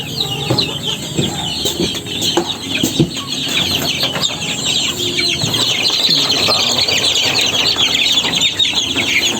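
Many chicks and chickens clucking and peeping together at a poultry farm, a dense, continuous chorus with occasional louder calls and wing flaps close by.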